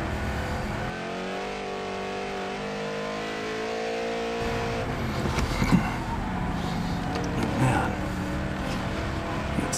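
A car with failed brakes drives on without stopping, its engine a steady drone that swells and revs mid-way, heard alone with no voices.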